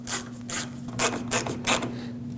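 Phillips head screws with machined threads being tightened on a 2006-2015 Lexus IS250 during washer reservoir work: five short ratcheting bursts, evenly spaced, close and moderately loud over a steady low hum.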